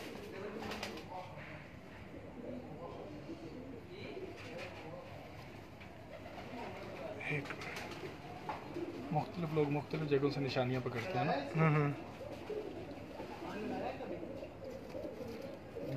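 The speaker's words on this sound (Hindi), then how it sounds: "ये कबूतर खुद भी 7-8 साल उड़ा हुआ है" Pigeons, including a champion racing bird, coo softly on a Punjab rooftop loft while someone talks steadily over them.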